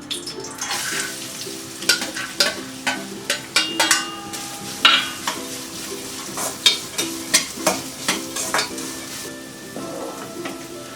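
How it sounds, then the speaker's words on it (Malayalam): Coconut pieces fry in melted ghee in a pan, a steady sizzle punctuated by repeated sharp scraping and clinking strokes of a stirring spoon against the metal, fairly close and loud, with no talking. "നമുക്കിതിലേക്ക് തേങ്ങ കൊത്തിട്ട് കൊടുക്കാം"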